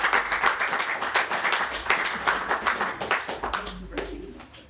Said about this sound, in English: if you could give her a really big round of applause